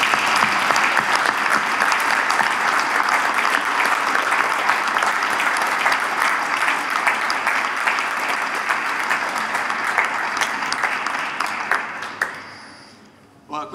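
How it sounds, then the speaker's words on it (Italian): Audience applause at a university sports-year opening ceremony in Pavia, a dense, sustained roar of many hands clapping that gradually eases and then fades out near the end. "vorrei rivolgere tutto il mio riconoscimento con un grande applauso da parte di tutti noi"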